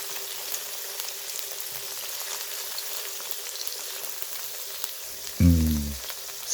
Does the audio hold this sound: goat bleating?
no